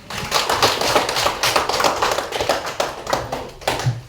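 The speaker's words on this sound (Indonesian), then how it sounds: "maka tepuk tangan untuk kita semua" A classroom of students clapping for one another during a religious-education lesson, a brisk crackle of many small hands with uneven bursts and a few louder slaps near the end.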